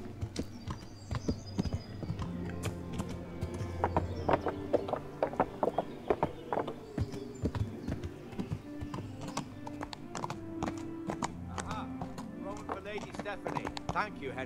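In the video game Kingdom Come: Deliverance, a horse's hooves clip-clop at a steady pace, mixed with game music and occasional clicks, with a voice talking over parts of it.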